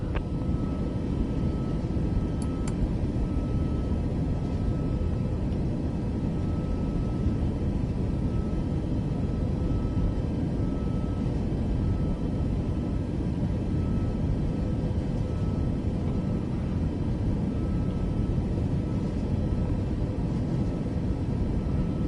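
An aircraft in Microsoft Flight Simulator 2024 powers up for takeoff, a steady, loud broadband engine roar and rumble that holds constant throughout with no talk.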